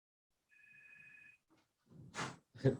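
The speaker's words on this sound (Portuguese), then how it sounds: "Tocando o telefone aqui" A telephone rings once with a steady electronic tone, quiet and in an otherwise silent indoor space, followed by brief soft noises.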